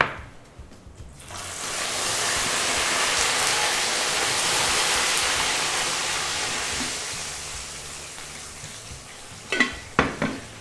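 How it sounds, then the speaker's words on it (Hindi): Water is poured into hot, roasting semolina with nuts for suji halwa, setting off a loud, steady hiss and sizzle that lasts several seconds and slowly fades, followed by a few utensil clinks and stirring scrapes. "अब इसमें पानी डालेंगे।"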